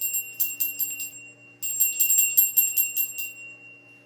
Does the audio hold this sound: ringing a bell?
yes